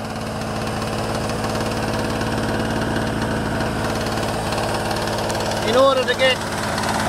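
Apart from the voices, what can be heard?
generator engine running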